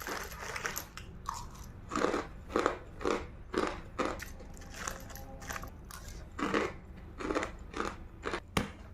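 A crunchy squid-flavoured snack is bitten and chewed up close, with a series of sharp crisp crunches in uneven bursts and short pauses between bites, no talking.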